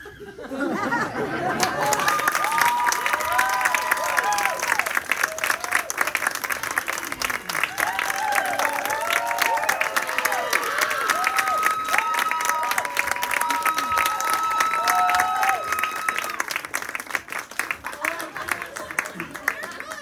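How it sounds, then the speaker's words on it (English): Audience at a 24-hour film, play and musical festival breaks into loud sustained clapping with cheers and chatter, steady for the whole stretch, with voices mixed in. "Can you give everyone a big round of applause?"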